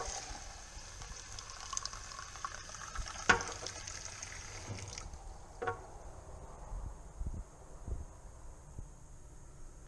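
Rainwater flows from a kitchen sink tap in a close, steady stream that cuts off about halfway through, leaving a quiet room with a few faint clinks and drips.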